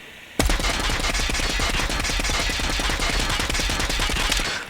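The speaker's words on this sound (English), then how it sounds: "And here is the recoil." A gun in Call of Duty fires on full auto after a brief quiet lead-in, delivering a loud, rapid, even string of shots that lasts several seconds and then stops.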